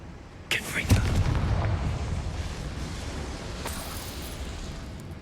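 A Confringo blasting spell explodes in Hogwarts Legacy, a sharp booming burst followed by a rumbling fiery tail that fades slowly, with a second smaller crack partway through.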